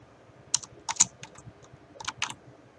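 Fingers tapping on a computer keyboard in a few quick, light bursts of keystrokes, close and fairly quiet over a soft room hiss, with no talking.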